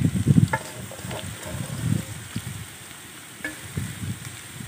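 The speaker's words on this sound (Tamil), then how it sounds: "இதை கொஞ்சம் நல்லா கிளறி விட்டுக்காங்க." Mashed palmyra tuber frying in oil while being stirred, with a low sizzle under repeated soft scraping and thumping strokes of a spoon against the pan, close and uneven in rhythm.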